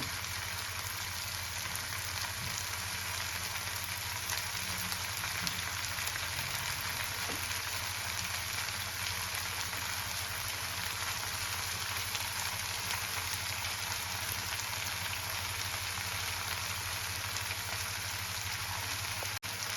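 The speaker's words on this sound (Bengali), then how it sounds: "এবার আমি সেদ্ধ করে রাখা নুডলসটা দিয়ে দেবো অল্প অল্প করে আমি দিতে থাকবো" Boiled noodles going into a hot pan for egg prawn chowmein, a steady loud sizzle and crackle of frying that holds throughout, with no talk.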